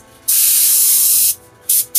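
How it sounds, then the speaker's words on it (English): Red terracotta paint glaze sprayed from an airbrush onto scenery pillars: a loud, close hiss in one long burst followed by two short bursts with brief silences between. "spraying underneath in a glaze"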